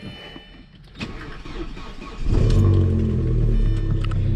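An Audi with a dead battery is jump-started from a pack: a few clicks and a whirring crank give way to the engine catching and settling into a loud, steady idle close by.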